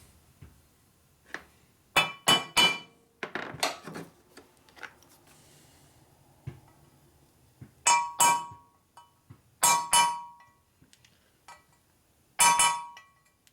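Pins being tapped into a bushing of a 1961 Harley-Davidson Sportster XLCH transmission: sharp metallic clinks and taps come in close pairs and short clusters with quiet gaps between them, loud and close, with no talk.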